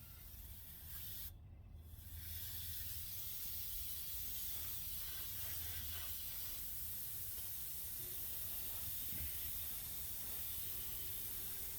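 An airbrush sprays a second light coat of enamel paint onto a Lindberg '63 Mustang II model car body, giving a steady, close, continuous hiss with brief interruptions.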